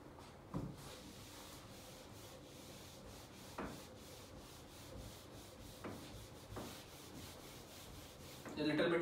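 Board eraser rubbing out a trigonometry lecture's writing, heard as several short scrubbing strokes at intervals, fairly close and moderately quiet, with a louder rustle at the end.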